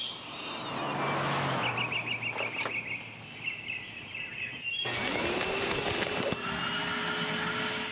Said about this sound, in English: If you love power, you'll love a Panasonic vacuum with power on demand.